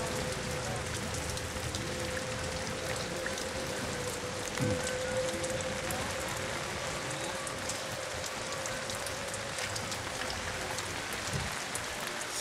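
Steady rain falls continuously on surfaces outdoors near a parking area, a dense even hiss throughout with a faint low hum underneath.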